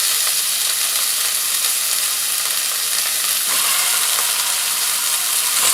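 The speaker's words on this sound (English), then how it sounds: "the next step is to brown your meat" Beef sears in a hot pan with clarified butter, a loud, continuous close-up sizzle that holds steady throughout with no pauses.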